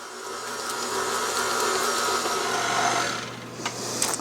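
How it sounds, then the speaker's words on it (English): Stand mixer working sticky donut dough with softened butter, a continuous whirring motor hum with steady rumble that shifts slightly near the end. "I'm going to keep mixing this until all of that butter is mixed in."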